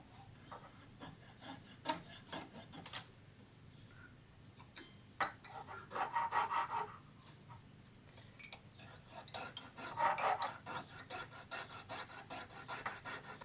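Plastic light mounts are cut away from a Scalextric Challenger slot car body, giving a steady run of scraping, rasping strokes with small clicks and snaps, close up and fairly quiet.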